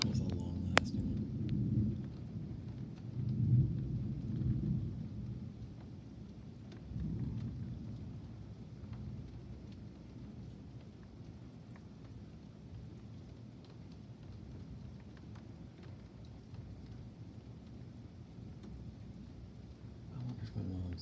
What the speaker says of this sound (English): Best storm of 2020, guys.